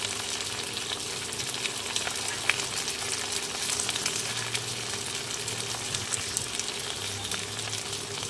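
Chopped tomato and green chili sizzle in a pan of cabbage curry with a constant close frying hiss and faint scattered crackles, with no voices.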